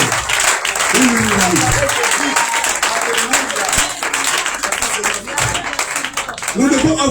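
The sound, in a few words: congregation applauding in church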